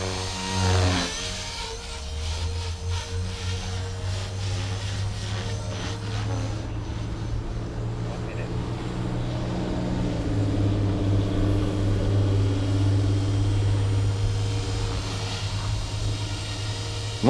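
A Blade 330s RC helicopter flies nearby, its rotor and motor giving a steady buzzing whine with low hum that shifts pitch as it manoeuvres, holding fairly loud throughout.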